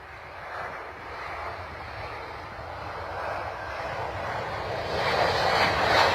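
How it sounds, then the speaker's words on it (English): A Ryanair airliner inbound from Cork lands at London Stansted, its engine roar distant but steadily growing louder as it crosses the threshold. "Inbound service from Cork now with Ryanair, just over the threshold"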